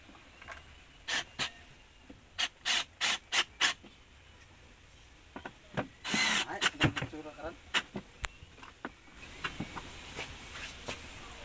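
Repair work on a washing machine motor as its screw is put back in place, with a series of sharp clicking and scraping taps in uneven bursts, close and moderately loud over quiet background.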